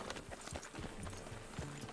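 Horse hooves trot in Red Dead Redemption 2, a quick run of clip-clop hits repeating through the moment, moderately close and fairly quiet, with a faint background bed and no talk over them.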